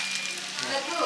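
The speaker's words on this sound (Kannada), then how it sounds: "ಒಗ್ಗರಣೆ" Spices for oggarane tempering sizzle in hot oil for bisi bele bath, a steady, dense crackling hiss that holds evenly throughout at close range, with no talk over it.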